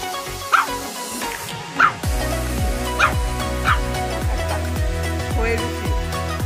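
A dog barks in a string of sharp, repeated yaps and yips indoors, fairly close, with short gaps between barks.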